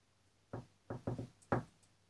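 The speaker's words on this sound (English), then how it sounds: "there's a knocking closer" Four sharp knocks, close by, in an irregular pattern against a quiet room: a single rap, then a quick double, then one more.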